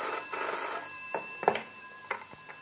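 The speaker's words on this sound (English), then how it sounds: "It was around midnight when the phone rang in Eric Masters' flat." A telephone rings late at night in a flat, a steady electronic trill with sustained tones and brief repeated pulses, fairly clear and close with no talk over it.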